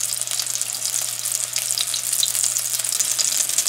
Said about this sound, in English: we're going to fry these karelas here now until they're a little brown